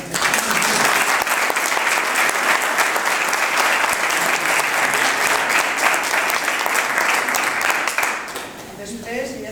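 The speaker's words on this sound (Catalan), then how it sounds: "I demano un aplaudiment per a aquesta sala" Loud, dense applause fills a hall at an inauguration, sustained and steady before tapering off near the end as a few scattered claps and murmurs remain.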